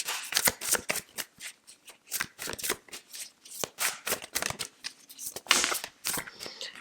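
Tarot cards are shuffled by hand in a quick series of crisp riffling bursts, close and fairly quiet, with no talking.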